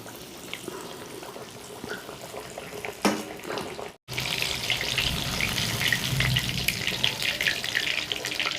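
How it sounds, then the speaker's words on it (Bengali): Battered Bombay duck (lote) fish fries in refined oil in a kadai, a soft hiss that swells into a dense, steady sizzle after a brief break midway. "আমি একটা একটা করে মাছগুলো ভেজে নেব।"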